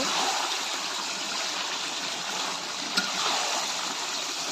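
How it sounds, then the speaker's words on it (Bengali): Broth pours into a pan of braised meat in a steady, continuous gushing splash with a slight hiss, close by and alone. "তো এখন আমি ঝোলটা দিয়ে দেব"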